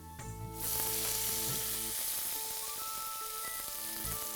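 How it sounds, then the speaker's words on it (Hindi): Fenugreek leaves hit hot oil with a sudden loud sizzle that keeps crackling steadily, with a few clinks of a utensil stirring the pan. "मेथी की भुनाई"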